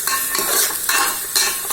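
Tomatoes sautéing in a pan with a little salt, a steady loud sizzle with scraping stirs of a utensil coming in bursts, no voices.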